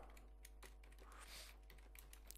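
Someone types a search on a computer keyboard in a quick run of soft, close clicks at low volume.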